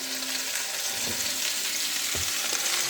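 Cabbage and new potatoes cooking in a pan for sausages with cabbage, an even, fairly loud sizzle with a couple of short clunks from stirring, near and without voices.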